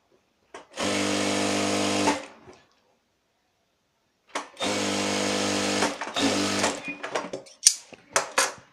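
Sewing machine stitching a petticoat: two long steady motor runs of fast, even needle chatter, separated by a quiet gap, then shorter stop-start bursts and clicks, close and loud, with no talking.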